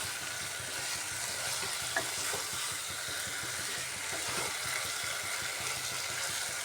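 Pointed gourd (potol) cooks in a pan with a steady low sizzle and soft stirring scrapes, moderately close, with no voices.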